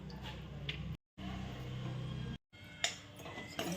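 Okra being stirred in a pan with crushed peanut powder and chopped coriander, with a spoon scraping and clinking against the metal pan in steady close strokes, broken by two brief silent gaps.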